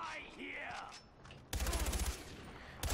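Rapid automatic gunfire in the video game Far Cry 4 bursts out loudly in the second half as a fast, even string of shots, following a quieter stretch of game sound and voice.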